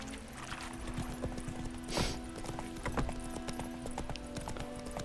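Roach the horse galloping in The Witcher 3, a steady rhythmic clip-clop of hooves at close range, with a brief louder burst partway through.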